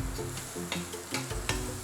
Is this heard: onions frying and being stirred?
yes